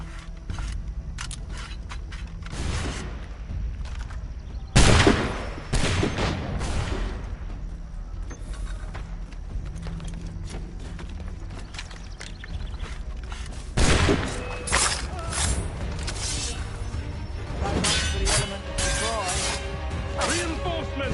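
Musket fire crackles through a battle, with sharp loud volleys bursting at intervals amid clattering and shouting, and voices speak and call out between the shots.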